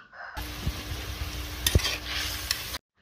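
Chhana fritters drop into hot oil in a pan and are stirred, giving a steady close sizzle with a few sharp scrapes and clinks of the spoon against the pan, no voices.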